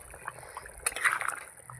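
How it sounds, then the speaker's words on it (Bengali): Bata fish curry broth boils in a pan as its lid is lifted, giving a soft, steady bubbling and gurgling with a brief clatter partway through, fairly quiet and close. "দেখুন কত সুন্দর ফুটছে।"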